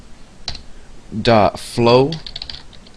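Keys click on a computer keyboard while someone speaks over them, a brief scattered run of taps.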